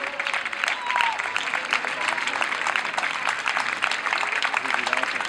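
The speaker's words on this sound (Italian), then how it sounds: "E l'applauso per l'atleta Scalingero." Spectators at a regional cadet athletics championship race in Bassano del Grappa give sustained applause for a runner, a dense steady patter of many clapping hands with some crowd noise, loud and continuous throughout.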